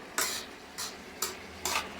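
Mackerel frying in a pan gives four rhythmic bursts of sizzling and spattering, evenly spaced over a quieter steady hiss, close and fairly loud.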